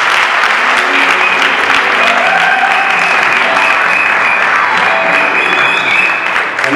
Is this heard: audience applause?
yes